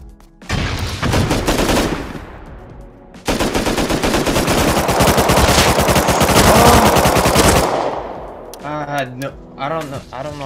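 Automatic gunfire in the video game Rust rattles in long, loud, rapid bursts, with a short pause between two sustained volleys before it cuts off, and a voice speaks briefly near the end.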